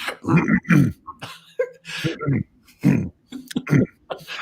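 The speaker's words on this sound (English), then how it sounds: "Apparently, clearing your throat now sounds like you're having a stroke" A person clears their throat in a few rough, guttural bursts, close and fairly loud, with short pauses between the grunting sounds.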